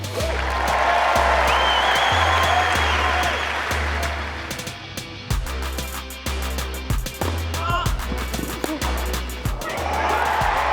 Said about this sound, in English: Standing ovation on court 2